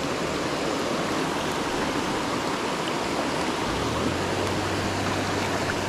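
A waterfall and trout stream rushing nonstop, a broad steady roar of water filling the whole clip, close and even with no voices.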